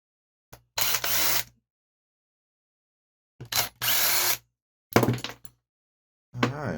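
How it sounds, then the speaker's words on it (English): Power drill backing screws out of the starter on a 26cc marine engine during a teardown: several short, loud whirring bursts with sharp starts and silent gaps between them, alone and close up. "I think we're going to switch over to the drill here."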